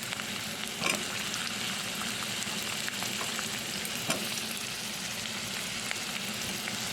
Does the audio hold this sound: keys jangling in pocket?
no